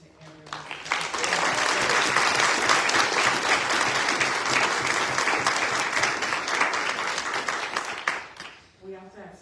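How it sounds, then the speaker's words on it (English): An audience at an MLK Jr. event breaks into loud, sustained applause that swells quickly and holds steady before tapering off near the end, with a voice briefly audible. "Would you all join me in giving another round of applause to everyone?"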